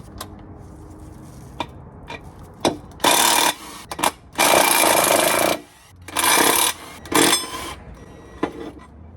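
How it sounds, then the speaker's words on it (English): Power tool spinning the 12 mm bolts off the cross member of a Toyota LS400 (Celsior), heard as several short loud bursts of whirring and rattling with ticking pauses between them, close by and with no talk. "I'm gonna bring all the sockets"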